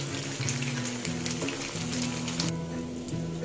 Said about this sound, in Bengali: এই মশলাটাকে আমি একটু তেলে কষিয়ে আপনাদের দেখাবো